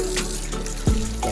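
Water running from a bathroom tap for hand washing, a close, steady gushing stream with a splashy shift in flow partway through.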